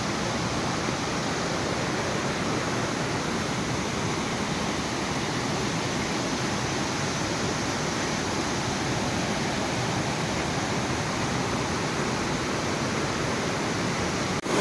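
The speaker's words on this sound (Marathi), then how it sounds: "पाण्याला बघा फोर्स पण बघा किती जाम आहे" Floodwater rushing forcefully under a bridge in a Konkan village during heavy monsoon rain, a loud, unbroken roar of churning water that stays level throughout, with no talk.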